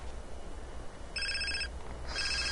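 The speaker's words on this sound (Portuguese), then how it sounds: "Eu sei que meu telefone tá tocando." Mobile phone ringing in GTA San Andreas, a bright electronic ringtone that sounds in two bursts over a quiet low game background, with no speech.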